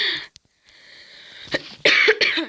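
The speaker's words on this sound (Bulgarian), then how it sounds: "Съжалявам, че кашлям." A mildly ill man coughs several times in close succession, harsh and near, after a short quiet pause and a faint steady tone.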